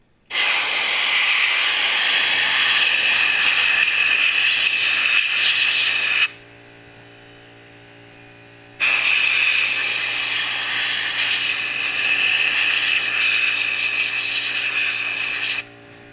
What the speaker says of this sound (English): Wait for that compressor to kick off.